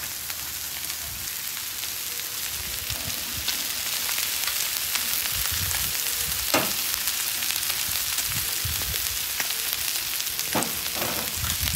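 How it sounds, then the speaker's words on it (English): Potatoes sizzle steadily on a steakhouse-style flat griddle, a constant crackling fry with occasional scraping and stirring clicks of a utensil. "We're just going to cook these until basically almost like the word al dente."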